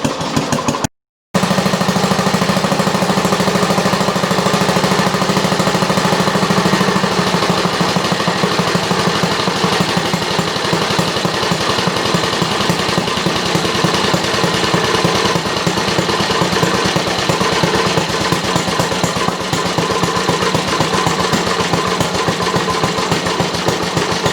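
A Briggs 5S engine fitted with a water hopper runs steadily, a loud low chugging with a quick even firing rhythm, briefly cut near the start, then settling into a slower knocking beat.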